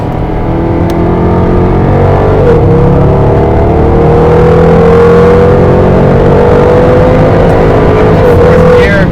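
The supercharged V8 of a 2011 Jaguar XKR roars loudly from inside the car on a race track, climbing steadily in pitch as it accelerates through the gears, with a brief dip at a shift.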